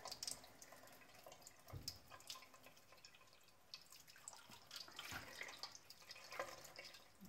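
Running tap water rinses a freshly shucked oyster, a steady faint splashing stream with small drips and splatters throughout, no talking.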